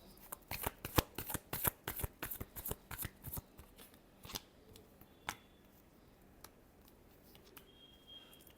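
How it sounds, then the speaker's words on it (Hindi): A deck of tarot cards is shuffled close up in a rapid run of crisp riffling snaps that slows into a few scattered taps and slides in a quiet room. "Last shuffle."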